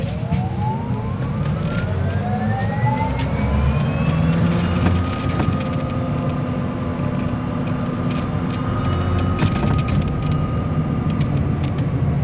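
Electric traction motors of a New Flyer LFS E Plus battery bus whine up in rising, rolling tones as it accelerates, loud and close over a constant road rumble.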